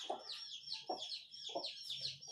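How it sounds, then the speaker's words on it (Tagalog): A Rhode Island chicken sharing a pen with a goat gives three or four short, close clucks at a steady pace, with high, thin chirping running continuously behind it. "Yan yung aking Rhode Island chicken na nakikishare sa ating kambing."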